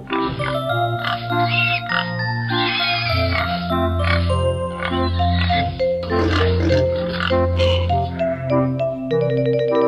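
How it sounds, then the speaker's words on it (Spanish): Pig grunts and oinks, loud and close, come in repeated rhythmic bursts over a steady tonal musical backing, sounding like a cartoonish farm-animal recording with no talking. "Cerdo."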